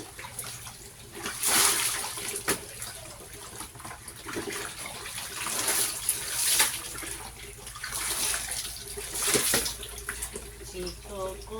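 Water running and splashing while a baby is bathed for the first time, a steady wash of tap flow with soft splashes, with a voice talking over it.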